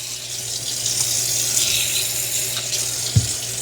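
Water runs steadily as a Narwal robot mop's base station is rinsed off, a constant splashing hiss with one brief knock near the end and no talk.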